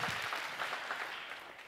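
A crowd at a talk breaks into a short burst of applause, dense clapping fairly near that softens and thins out over a second or two with no one speaking.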